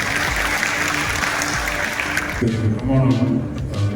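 Audience at a ceremony clapping, steady applause under a speaker's amplified voice, with the clapping growing denser and louder toward the end.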